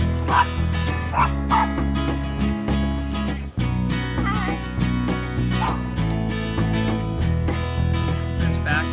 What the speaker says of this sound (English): Look at the crazy dog fighting with the stick.